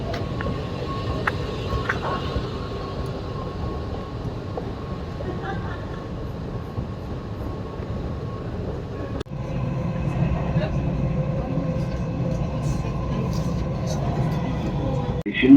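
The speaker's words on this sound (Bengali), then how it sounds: "ট্রাম।" Tram rolling through Dubai, a steady mid-level rumble of wheels and motor that grows louder and fuller partway through, with faint voices around it.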